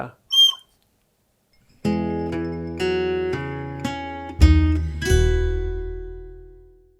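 A wooden whistle blown in a few separate short toots, then a longer sustained note that fades out, close and fairly loud.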